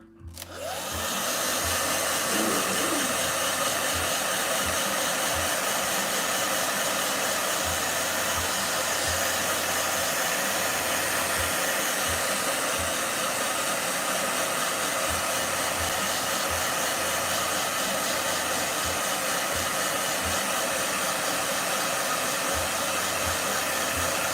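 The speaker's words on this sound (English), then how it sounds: "Blow dryer." A hair dryer blasts continuously at close range, a steady loud broadband whoosh from start to finish with no voices over it.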